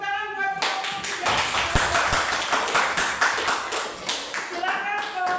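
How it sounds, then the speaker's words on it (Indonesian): High school students in a classroom clap for a group that has just presented, a burst of fairly close hand claps that starts abruptly and runs for several seconds before fading, with a voice briefly heard at the start and end. "tepuk tangan buat kelompok 3"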